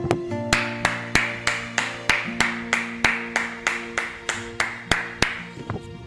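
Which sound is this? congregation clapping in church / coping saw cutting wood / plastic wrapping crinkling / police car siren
congregation clapping in church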